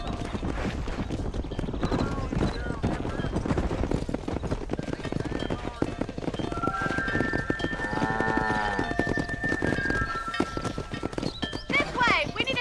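Horse hooves galloping in Red Dead Redemption while herding cattle down a road: a steady rapid clip-clop runs throughout with a neigh partway, under continuous music and character dialogue.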